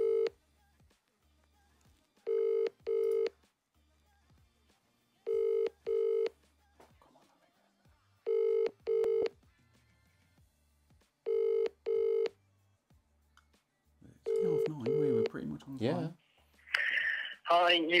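A phone call placed over a speaker: several short bursts of dialing tones in a steady repeating pattern, then ringing sounds toward the end, with a person talking briefly near the finish.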